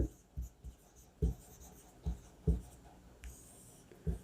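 Pen writing on paper or a board during a class 10 maths lesson, a quiet series of short scratchy strokes in an uneven rhythm, close and soft, with no talk.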